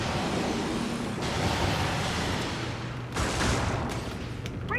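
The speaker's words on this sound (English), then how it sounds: "I'm going to do an incendiary bomb in reaction to that." Incendiary bomb strike in a sci-fi shooter video game bursting amid dense, continuous battle noise, with loud rumbling explosions and crackling gunfire filling the whole stretch.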